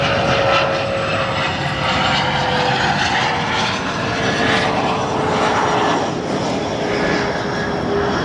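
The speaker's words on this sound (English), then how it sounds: "Our next arrival, SkyWest Airlines Flight 5885, CRJ 200, coming in from Springfield in Illinois." A SkyWest CRJ 200 regional jet lands at O'Hare, a steady loud engine roar with a slowly falling whine as it passes, heard at a distance without talk.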